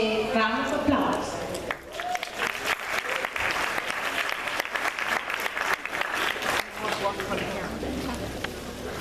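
Theatre audience applause welcomes performer Isla at a Theatre of Creative Consciousness show, a crackling burst of many hands clapping that swells and then thins, with voices talking over it.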